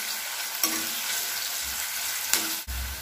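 Onions fry in a pan over medium heat with a steady, close hiss, broken by a couple of sharp clicks or scrapes and a low thump near the end.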